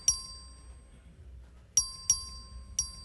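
A clerk rings the vote bell in the Texas House chamber: four bright, ringing dings, one at the start and then three spaced strikes, close and clear against a quiet room hum, with no talk.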